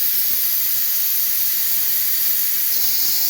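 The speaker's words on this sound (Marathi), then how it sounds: "आता 2 शिट्ट्या कुकरला लावून 2 शिट्ट्या करून घेऊया." Pressure cooker on a gas stove vents a steady, loud hiss of steam while cooking pav bhaji vegetables, a continuous whistle that holds without a break.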